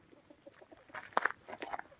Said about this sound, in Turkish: Tavuklar da çok mutlu. Keyifleri yerinde dışarıda.